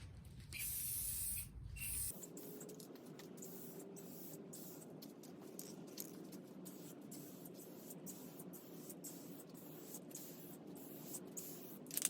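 A spray can hisses steadily as a thicker coat of paint goes onto a motorcycle gas tank, a soft, continuous spray with brief pauses and faint clicks, heard close and alone.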